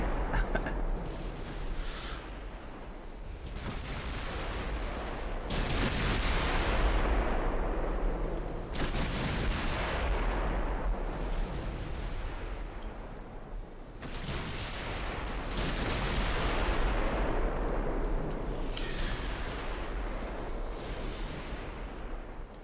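Naval guns fire high explosive shells in a Greek-campaign strategy game, heavy rumbling booms rolling in waves over a steady wash of sea and wind noise, loud and continuous with no talk.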